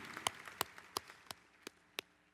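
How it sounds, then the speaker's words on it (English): Hand claps from an audience cheering student athletes land in an even, steady rhythm, six sharp claps roughly a third of a second apart, faint against a quiet hall. "Everybody give those student athletes a hand clap."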